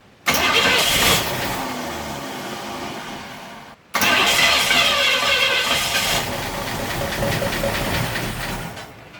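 A car engine cranks over on starting fluid with no fuel reaching the carburetor yet: two long bursts of loud, close, churning cranking separated by a brief pause, with a hissing edge and no talking.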